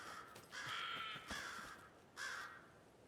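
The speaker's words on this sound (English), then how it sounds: "Hello, crows." Crows caw in the video game Alan Wake 2, three harsh drawn-out calls spaced about a second apart, fairly clear against a quiet background with faint ambient noise.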